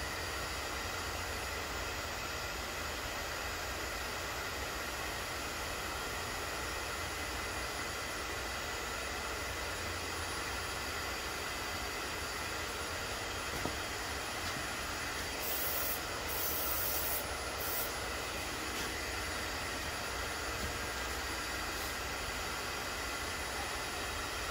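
Comec ACF200 milling machine cutting an R56 Mini Cooper cylinder head, a steady, even broadband hiss and whir running throughout with no pauses, with a brief brighter high-pitched stretch partway through.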